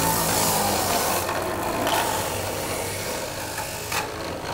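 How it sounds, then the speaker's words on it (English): An Omega 1000 centrifugal juicer juicing carrots gives a loud, steady grinding whir that runs unbroken through the whole stretch with no one speaking. "now let's go ahead and juice some carrots"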